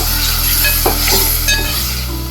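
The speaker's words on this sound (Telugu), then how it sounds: "మనం నానబెట్టుకున్న గుజ్జు తీసుకున్నాం చింతపండు, ఇది ఇందులో వేయాలి" Tamarind pulp hits a hot pan of oil for pulihora, giving a loud, steady sizzle with stirring scrapes throughout and no talk.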